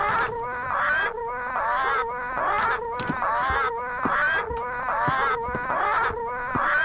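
Parrots squawk in Return to Monkey Island, a steady run of loud, harsh, raspy calls repeating in quick bursts throughout, close and alone with no talking.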